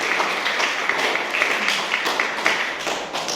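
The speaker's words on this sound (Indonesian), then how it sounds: "aplaus buat Nabila" A classroom group claps for a student named Nabila, a scattered, moderately loud patter of hands lasting a few seconds with no voices over it.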